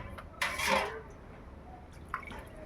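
A short splash of water poured into a cooking pot for rohu fish curry, a brief liquid gush followed by a faint drip in a quiet kitchen.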